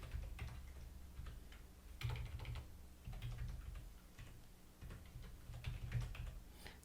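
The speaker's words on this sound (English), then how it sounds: "Students can type in their username." Faint, fast clicking of a computer keyboard as a username is typed, keystrokes coming in quick irregular bursts with brief pauses.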